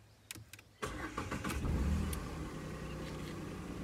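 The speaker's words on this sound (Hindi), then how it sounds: "स्टार्ट करने लगा मैं गाड़ी, आवाज़ सुन लेना" A Renault Kwid automatic with a three-cylinder engine cranks briefly in neutral, then catches and settles into a steady, close idle with the windows open.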